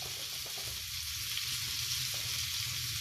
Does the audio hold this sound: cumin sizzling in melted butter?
yes